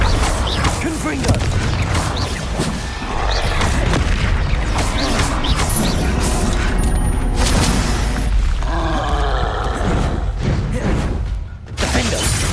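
Repeated crackling blasts of the Confringo fire spell in the video game Hogwarts Legacy, loud and continuous combat bursts with spoken spell incantations over them.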